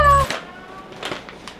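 A neighbour's cat lets out a single close, plaintive meow just after a brief electronic tone at the start, followed by faint household noise.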